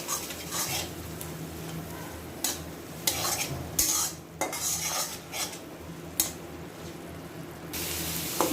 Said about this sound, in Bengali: এখন দিব হলুদের গুঁড়া জিরা গুঁড়া স্বাদ মতো লবণ সব কিছু ভালো করে কষিয়ে নিবি